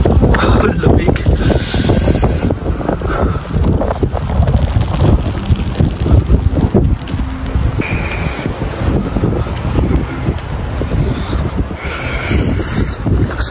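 Strong, gusty wind buffets the microphone in cold, stormy weather at Smoky Lake, Alberta, with rain starting, a loud continuous roar surging and dipping throughout with no other clear sounds.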